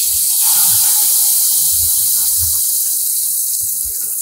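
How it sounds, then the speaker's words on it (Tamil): Steady hiss of coriander chutney poured into hot oil with curry leaves, a broad continuous sizzle with faint low thumps, no talking. "இப்போ இந்த சட்னியை ஊற்றிடுறேன்."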